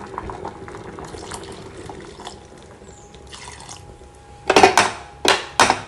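Tamarind extract poured into simmering sambar in a pot, a soft steady liquid trickle giving way to a few louder splashing bursts near the end, with no voices.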